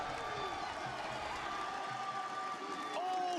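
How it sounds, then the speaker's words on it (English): Esports arena crowd at the Rainbow Six Siege playoffs roaring and cheering in a steady, dense wash of voices and whoops, with a caster's voice faintly over it. "The Wildcard crowd is starting to get on their feet."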